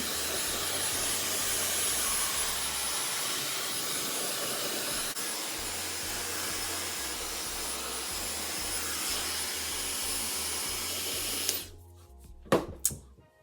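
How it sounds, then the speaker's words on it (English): A Dyson hair dryer set to high heat and low airflow blows steadily on hair roots, a loud, continuous close-up whoosh that cuts off near the end, leaving a few brief handling clicks and bumps. "I'm gonna take my Dyson, turn the heat up, turn the wind down, and just hit my roots a little bit"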